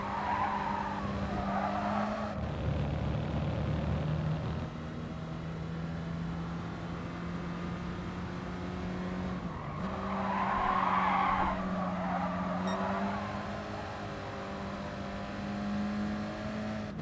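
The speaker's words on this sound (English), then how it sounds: "I don't know if I should be revving this car out more or not." Race car engine in GT Sport holds a steady droning note with rising revs, while tire squeal and skidding swell twice over the run, loud and continuous throughout.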